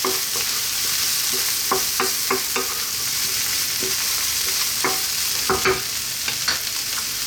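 Oyster mushrooms and small Chinese mushrooms fry in a hot pan over high heat, with a steady bright sizzle broken by repeated clacking scrapes of stirring.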